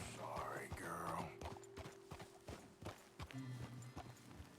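Horse hooves clip-clop in Red Dead Redemption 2 as riders slow and come to a halt, a series of soft uneven thuds under game music and ambient noise, with a horse snort and faint voices nearby.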